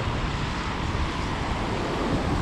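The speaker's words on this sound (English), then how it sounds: "It's still bloody windy though." Strong, steady wind buffets the microphone in a continuous roar at Blackpool's Central Pier, with a low rumble that could be surf nearby.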